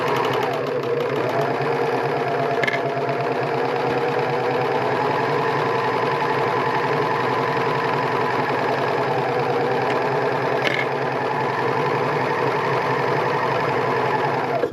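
A serger hums and clatters steadily close by while stitching fabric along the folded side of a drawstring bag, a continuous mechanical drone with a couple of faint clicks; no talk.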